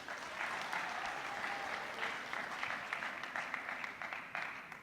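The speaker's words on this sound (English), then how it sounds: "give her a big round of applause" Students applaud steadily at a high school senior assembly, a dense, sustained wash of clapping from a large room that carries on evenly for several seconds with no voices on top.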